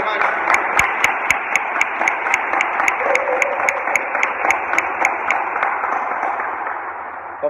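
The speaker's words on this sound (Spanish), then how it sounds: "Fuerte el aplauso a nuestro amigo y patrón, hermanos y hermanas." A congregation at a Catholic Mass during a novena to San Cayetano claps strongly, a full sustained round of applause with crisp individual claps standing out over the crowd.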